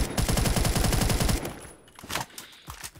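Rapid automatic gunfire from a video game gun, a loud, steady burst of evenly spaced shots lasting over a second, then a few scattered, quieter shots and distant game noise.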